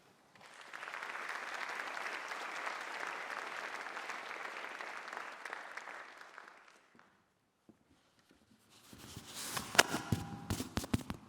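An audience welcomes a speaker to the stage at a science lecture, sustained applause for about six seconds that fades out, followed by a pause and close microphone handling thumps.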